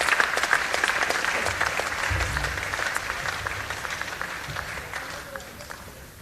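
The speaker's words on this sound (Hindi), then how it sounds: "तालियां बजा के स्वागत कीजिए" An audience applauds to welcome Indian politician Nitin Gadkari onto the stage at a public address, a steady dense clapping that carries throughout and slowly tapers near the end.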